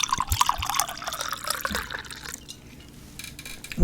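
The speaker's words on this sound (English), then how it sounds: "Let me get this pour first." A drink is poured into a glass: a close, trickling stream of liquid runs for a couple of seconds, then fades to quiet near the end.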